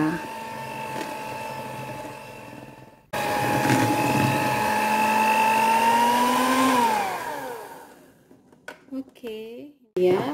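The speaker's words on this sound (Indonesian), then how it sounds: "Setelah 15 menit, kecepatan mixernya diturunkan secara perlahan, kemudian tuangkan vanili cairnya." Electric hand mixer whirring steadily through mocha steamed sponge cake batter, a sustained motor whine that steps up in pitch, then winds down and stops partway, followed by a few brief clattering knocks and a short burst of whirring at the end.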